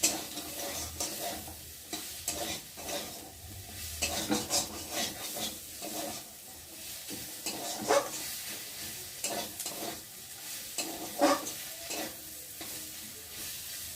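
Bitter gourd is stirred and fried with spices in a pan, with a steady close sizzle and repeated scraping stirs running throughout, no voices.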